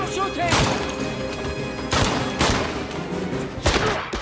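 Gunfire in the shooter video game 007 Blood Stone: several loud shots and thuds in irregular bursts, close, with a voice talking over them.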